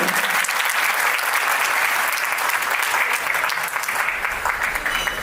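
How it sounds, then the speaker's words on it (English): Sustained, dense applause from a large crowd at a Republic Day event in a banquet hall in Surrey, steady and loud throughout with no pauses. "A huge round of applause, ladies and gentlemen"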